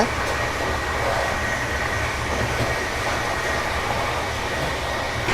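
A train rumbles along steadily from inside, heard on the New Delhi to Shri Mata Vaishno Devi Katra route, a constant broad roar with no pauses or voices.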